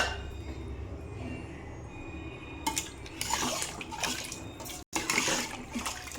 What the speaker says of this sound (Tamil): தண்ணியை ஊற்றி வேக விட வேண்டியதான்.